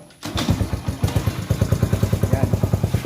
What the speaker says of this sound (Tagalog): paandar natin yung motor